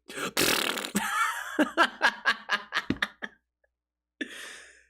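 A person vocally imitates a fart noise: a burst of spluttering, followed by a quick series of about eight short, wet, popping bursts that trail off into a brief pause and a final short puff.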